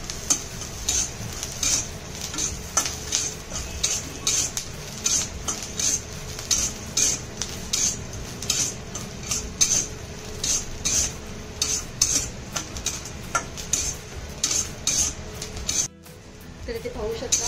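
Peanuts, garlic and green chillies roasting in a pan, stirred with a utensil that scrapes and clinks in a steady rhythm over a soft sizzle, close, with a voice talking throughout.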